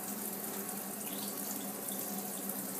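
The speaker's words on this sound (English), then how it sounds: "I like to rinse it inside, get all that e-juice out" Water runs steadily from a tap as a vape tank is rinsed out inside to clear e-juice, a continuous close splashing flow with no talking.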